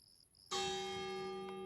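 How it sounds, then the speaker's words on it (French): A church bell in a cemetery strikes once, loud and close, its ringing tone sustaining and slowly decaying after a quiet start. "Tiens. Cloche"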